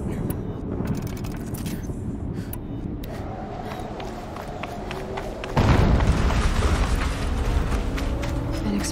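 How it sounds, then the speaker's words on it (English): Explosion in the video game Horizon Zero Dawn: mechanical rattling and clanks give way to a sudden loud, broad roaring burst that sustains to the end. "An explosion."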